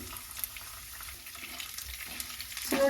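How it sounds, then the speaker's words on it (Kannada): Lentils, urad dal and peanuts fry in hot oil with a soft, continuous crackling sizzle, ending in a brief louder clink of a utensil against the pan. "ಎಣ್ಣೆ ಕಾದಿದೆ ಇವಾಗ ಇದರೊಳಗಡೆ ನಾನು ಬೇಳೆನ ಹಾಕ್ಕೊಳ್ತಾ ಇದ್ದೀನಿ ಮತ್ತು ಉದ್ದಿನಬೇಳೆ ಮತ್ತು ಶೇಂಗಾನ ಹಾಕ್ಕೊಳ್ತಾ ಇದ್ದೀನಿ"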